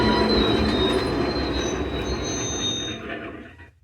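Metal wheels screech against track as an O gauge model train slows, a steady grinding rumble with a high squeal that fades out as it comes to a stop.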